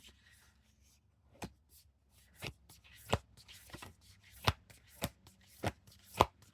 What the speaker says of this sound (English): I just shuffle until a card flips over, or 2 cards.